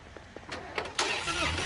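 A car engine cranks and catches after a jump start from another vehicle, a short starter whir followed by a rising, steady running engine noise, fairly close and moderately loud.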